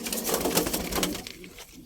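A bird cooing softly nearby, a low repeated call over faint background noise.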